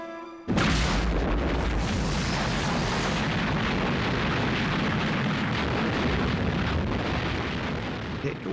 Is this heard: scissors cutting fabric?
no